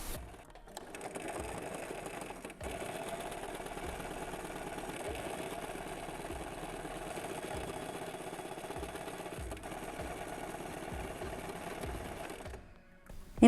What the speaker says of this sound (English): making sure I turn a little bit the circle so I can sew it properly